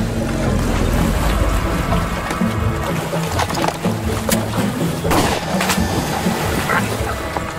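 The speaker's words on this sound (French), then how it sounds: "Continuez à ramer" Oars stroke through water in a radio drama rowing scene, producing rhythmic splashing and sloshing that runs continuously and stays fairly loud with no voices.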